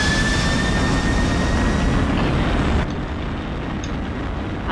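In a flight simulator, an SF Airlines Boeing 767 roars through its takeoff on runway 09, a loud, steady broadband jet rumble with a faint whine that dips slightly partway through, with no voices.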